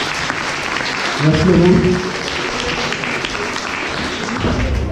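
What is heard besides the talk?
audience applauding the mentalist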